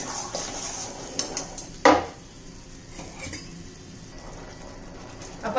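Soybean chunk curry is stirred and fried in a pan, with soft scraping, a sharp clink of the utensil against the pan and faint sizzling, close and quiet.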